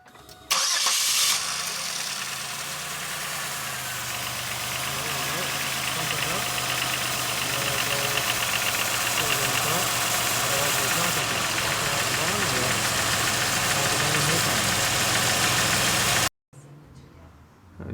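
A car engine cranks and catches during a transmission flush done without removing the pan, then runs steadily and loudly for about fifteen seconds before cutting off abruptly.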